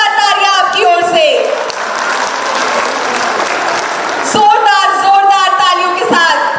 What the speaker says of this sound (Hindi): जोरदार तालियां आपकी ओर से